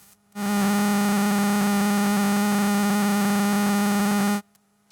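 Harsh, sustained no-input mixer feedback tone, rich in buzzing harmonics, switches on abruptly, holds loudly and evenly for about four seconds, then stops dead.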